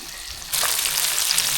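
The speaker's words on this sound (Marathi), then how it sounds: "मस्तपैकी फ्राय होत आहेत मासे." Fish frying in a pan over a wood-fired clay stove, a quiet start then a steady, loud hiss of sizzling oil that runs without a break, with no one talking.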